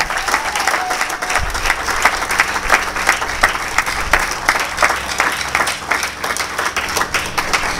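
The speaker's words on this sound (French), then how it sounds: "nous pouvons applaudir pour elle encore très fort." An audience at a speech applauds steadily and loudly for several seconds, with dense, continuous clapping throughout.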